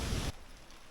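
A short burst of steady hissing rain noise that cuts off abruptly, leaving a quieter rustle behind.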